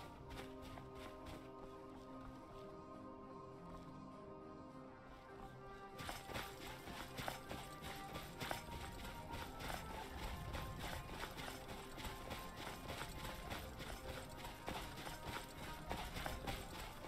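Rhythmic clip-clop of hooves trots steadily for most of the stretch, over a quiet backdrop of game music and ambience.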